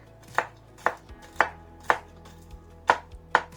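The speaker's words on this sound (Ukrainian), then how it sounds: "підсмажені горішки, також подрібнюємо е, ножем, але не на дуже такі дрібні шматочки" A knife chopping roasted walnuts on a board, about seven sharp, evenly spaced chops with a few lighter taps between them, close and clear with no speech.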